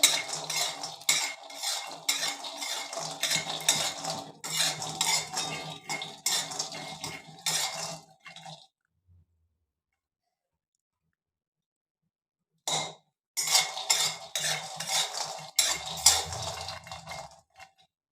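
Peanuts frying in a pan on low flame, stirred with a utensil: rapid scraping and clinking against the metal, then a pause of near silence before the stirring resumes, close and moderately quiet with no voices.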